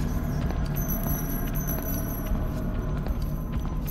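Keys jangle in the horror video game Dreadout, faint metallic rattles and clinks repeating over a dense, constant ambient drone, with no talking.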